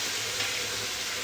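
Cumin seeds sizzle in hot desi ghee in a kitchen pan, a steady, dense, close frying hiss that holds evenly throughout with no voices.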